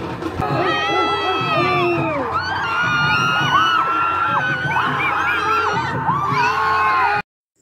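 Crowds riding on a line of lorries in a temple festival procession shout, whoop and cheer together, loud and continuous, with many overlapping voices before the sound cuts off abruptly.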